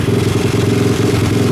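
A DemonX 110 pit bike engine idles steadily after a carburettor tick-over fix, a loud, close, even rapid thrum with no talking.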